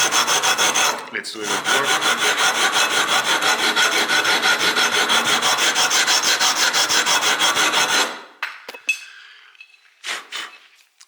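Sandpaper rubbed steadily back and forth along a guitar neck to strip its dark finish, a loud, continuous rasping scrape for about eight seconds, then a few brief rubs and a short spoken remark.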